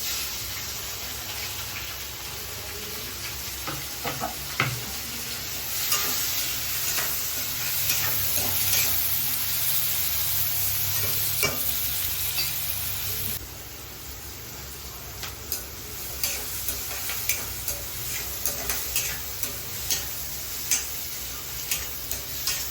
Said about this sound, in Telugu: ఇది కూడా ఫ్రై అవ్వాలి గోల్డెన్ కలర్ వచ్చే వరకు ఫ్రై చేసుకున్నాము